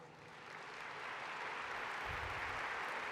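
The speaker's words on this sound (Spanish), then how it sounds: "Recibamos con un muy fuerte aplauso a Jorge Guajardo" Conference audience applauding a speaker, a soft, distant wash of clapping that swells gradually and stays steady.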